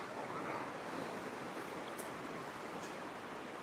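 Sea waves wash in along a coastline as a steady, close, unbroken rush of surf, with no voices over it.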